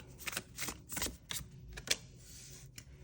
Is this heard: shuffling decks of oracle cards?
yes